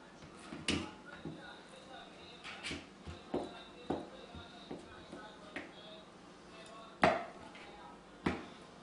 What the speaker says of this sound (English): I'm just going to chop it up a bit to make it a bit easier for it to melt.